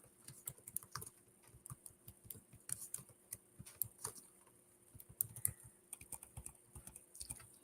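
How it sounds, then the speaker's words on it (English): Rapid keystrokes clatter on a keyboard resting on a TV tray in uneven bursts, soft and close, with short pauses between runs of typing. "I'm literally typing on a TV tray"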